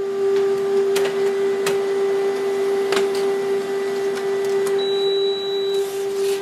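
A Canon Color imageCLASS MF650 printer prints a page: a steady mechanical whir with a constant low hum throughout, broken by occasional soft clicks and brief higher chirps near the end.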